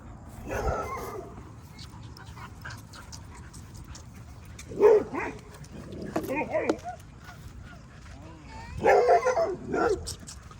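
Several dogs bark and yip in short scattered bursts near a parking lot, with panting and whimpers between them and a person talking at moderate distance throughout.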